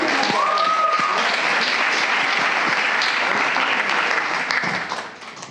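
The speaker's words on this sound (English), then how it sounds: "Give him another round of applause." Dense, loud applause from the audience at a startup pitch-day final, sustained for about five seconds before fading out, with a short whistle near the start.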